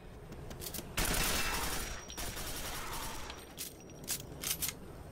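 Rapid weapon fire in Quake 4, a loud burst of blasts followed by a steady roar and several sharper, spaced shots toward the end, with no talking.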